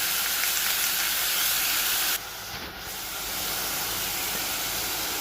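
Pork cooking over low heat in a pan, a steady close sizzling hiss that softens briefly partway through, then continues evenly to the end.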